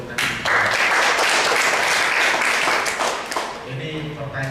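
A crowd at a Valentine's event breaks into applause, a dense burst of many hands clapping that holds steady for about three seconds before thinning out, with voices mixed in.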